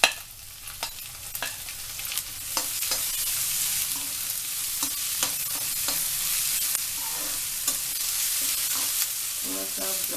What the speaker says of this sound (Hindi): उसके बाद हम डालेंगे प्याज 2 बारीक कटे हुए, इसको भी थोड़ा सा ब्राउन करेंगे।